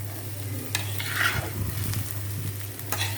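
A spoon works through khichuri in a pot on the stove, producing a continuous soft sizzle with scraping stirs and a few light clinks, close by, over a low steady hum.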